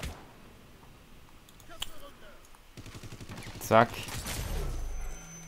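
Gunfire in the video game Hitman: Absolution, with sharp shots and a brief rapid burst among other game sounds, while someone speaks briefly.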